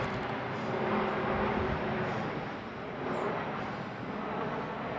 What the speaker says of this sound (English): It was an aeroplane, you know, it had wings and engines and its wheels were down, so it's landing.